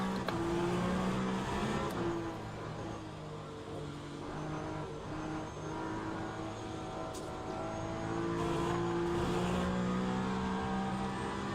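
A Peugeot 9X8 hybrid prototype race car drives in wet conditions in the Le Mans Ultimate racing game, its engine a continuous, fairly quiet drone with steady tonal whine and slight shifts in pitch throughout.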